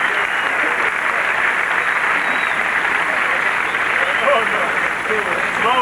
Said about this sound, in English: And listen to the reception for the Germans from the American crowd in L.A.